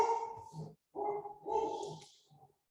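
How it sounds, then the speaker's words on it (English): Several dogs bark at home in a few loud, close bursts with short gaps between them. Indoors, with no talking. "Are your dogs going crazy, Trish?"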